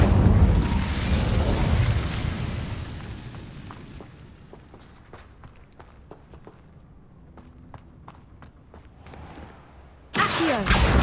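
In Hogwarts Legacy, the Incendio fire spell bursts out as a loud, roaring whoosh that fades over a few seconds. Footsteps patter through the quieter middle, and another sudden, loud burst ends the clip.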